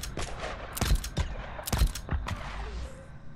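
Scattered gunshots in the video game Days Gone crack out in uneven bursts, several sharp loud reports with a few quieter shots between them, no voices.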